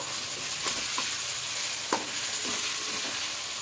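Chopped green chilies are stirred into chicken leg pieces frying in a pan for a spicy masala yogurt chicken, with several spaced scraping strokes over a constant close sizzle.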